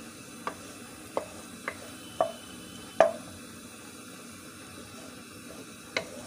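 Onions sautéing in a pan for naalli keema, a faint soft sizzle under a series of sharp spoon stirs and taps against the pan at irregular intervals.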